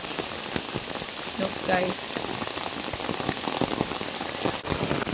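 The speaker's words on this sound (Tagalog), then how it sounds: "Napakalakas talaga ng ulan." Heavy typhoon rain pours steadily onto surfaces near a flooded farm hut, a dense, continuous hiss broken by close drips and patters, while someone speaks briefly over the downpour.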